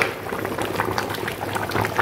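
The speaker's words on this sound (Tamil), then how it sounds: "குழம்பு நல்லா கொதிச்சுக்கிட்டு இருக்கு ஃப்ரெண்ட்ஸ்." Village-style fish curry boiling in a pot, with a continuous bubbling simmer heard up close and fairly steady, and no talk over it.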